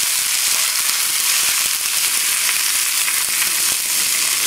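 Asparagus and mushrooms saute in a hot pan with a loud, continuous sizzle full of sharp crackles and pops, with no voices over it.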